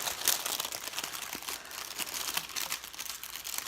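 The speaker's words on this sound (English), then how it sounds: "Open bag." A plastic bag being opened during a Lucha Loot wrestling-mask unboxing, with soft crinkling and crumpling rustles that continue at low volume throughout.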